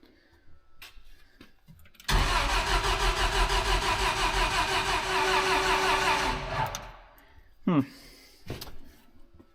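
An old scrap crane's engine, fired with a manual solenoid after going dead, turns over and catches into a loud, steady rumbling run for about four seconds, then cuts out, followed by a few short clanks and knocks.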